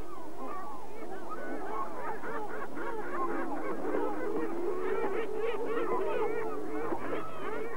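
A bird's loud territorial cry, a honking, goose-like call repeated in a dense chorus of overlapping squawks, close and steady throughout.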